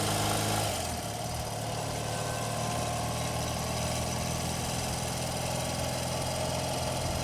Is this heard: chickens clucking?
no